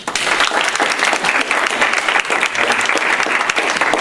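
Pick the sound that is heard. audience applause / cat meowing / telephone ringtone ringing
audience applause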